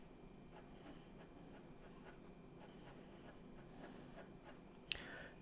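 An HB pencil sketching fur on paper, a soft, quiet, rhythmic scratch of repeated short strokes throughout, ending in one brief sharper tap.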